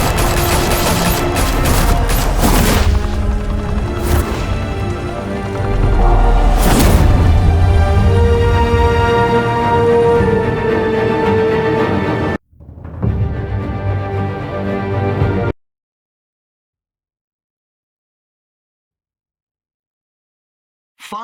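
Heavy sustained gunfire in a Telltale Batman shootout at a mafia high-rise club in Gotham, loud overlapping bursts and booms that run continuously, cut out abruptly, return briefly, then fall silent.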